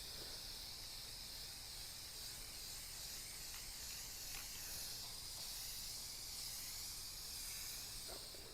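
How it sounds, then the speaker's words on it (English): Matte clear coat sealer sprayed onto painted, distressed thrift-store furniture, a steady faint hiss that runs unbroken throughout with no talk. "I'm going to go ahead and seal it in with some matte clear coat"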